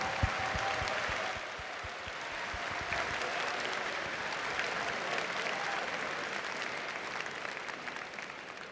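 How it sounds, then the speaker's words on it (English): Sustained audience applause fills the hall at the Evo 2022 esports fighting-game event, a dense, steady clatter of many hands clapping that carries on for the whole stretch without talk. "So if you could please offer them a little bit of an applause"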